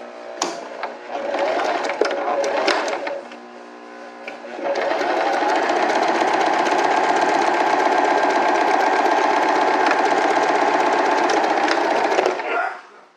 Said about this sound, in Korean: 끝에서 대박음질, 노루발 들고 실을 길게 빼서 자르시면